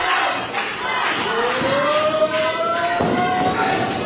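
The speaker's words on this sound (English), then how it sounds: "The crowd asking for one more time." Wrestling crowd at a New Age Wrestling match chanting and cheering, a roaring mass of voices with a rising sustained call through the middle and rhythmic swells, loud and close.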